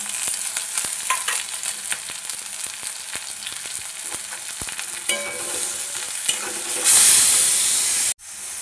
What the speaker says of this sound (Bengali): পেঁয়াজটা একটু ভাজা ভাজা হয়ে গেছে এবার দেবো আদা রসুন কাঁচা লঙ্কা কুচি